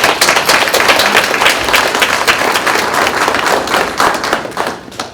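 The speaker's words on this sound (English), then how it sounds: "let's do a quick round of applause" An audience at a Phi Theta Kappa college induction ceremony gives a quick round of applause, dense clapping that holds strong for about four seconds, then tapers slightly at the end.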